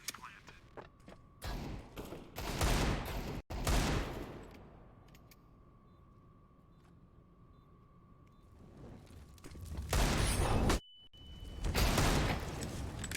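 Desert Eagle shots ring out in an online shooter match, heavy bursts of gunfire and thuds in clusters at the start and end, with a quieter stretch in between.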